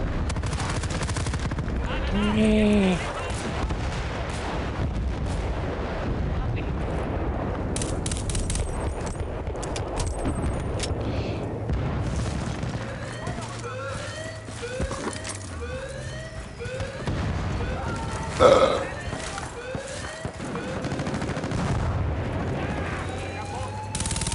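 Gunfire in the video game Battlefield Bad Company 2 on the Valparaiso map in Rush mode, repeated shots and bursts at moderate level alongside game effects and occasional voices talking.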